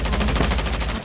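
Rapid automatic M4 rifle fire from the mobile game Call of Duty Mobile, a loud continuous burst of evenly spaced shots filling the whole second with no talking over it.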